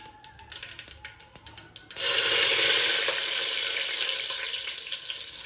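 Cumin, mustard seeds, curry leaves and dal hit hot oil: a few light clinks and scrapes give way to a sudden loud, close sizzle that hisses on steadily, fading only slightly.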